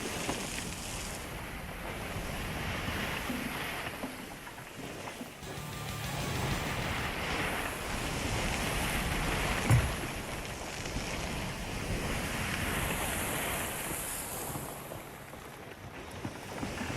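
Wind and ocean waves rush steadily around a sailing ship heading into the wind in the Sea of Thieves video game, forming a continuous swelling roar with a single brief knock partway through.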